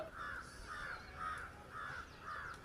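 A crow caws repeatedly in an even rhythm, five harsh calls in a row, fairly close and clear over quiet background.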